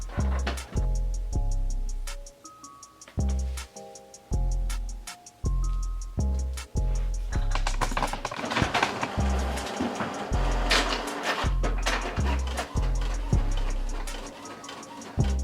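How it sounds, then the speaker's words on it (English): An HP OfficeJet 3830 inkjet printer prints a shipping label: loud, close rhythmic thumps repeat at a steady pace, then give way to a denser run of rapid mechanical clicking and rattling, with no talk. "So I'm just gonna put this in the printer."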